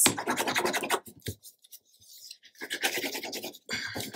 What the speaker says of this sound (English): we're going to burnish this